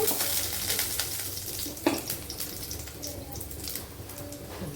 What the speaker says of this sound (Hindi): थोड़ा सा लहसुन तड़क जाए